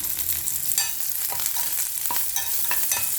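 Dried red chilies and curry leaves frying in hot oil with onions, a busy crackling sizzle broken by repeated spoon scrapes and stirring clicks against the pan, close and alone.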